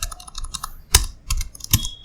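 Someone types a party name on a computer keyboard: a short run of close, quick key clicks with a few louder, heavier strikes, as if hitting the space bar or Enter, with no voice over it.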